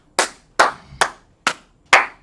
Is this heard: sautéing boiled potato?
no